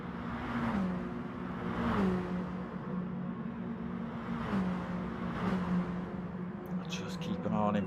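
Mini Cooper race car engine in a racing video game at Dragon Trail Gardens, a whining tone that rises and drops repeatedly through gear shifts, with a commentator talking over it.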